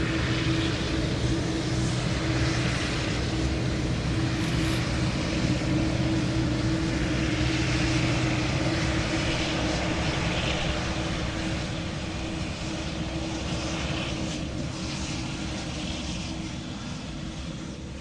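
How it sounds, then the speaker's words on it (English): Boeing 787 Dreamliner jet engines roaring loud and steady at Manchester Airport, a broad continuous rumble with a faint hum, fading slightly toward the end. "Great sound on that Dreamliner there."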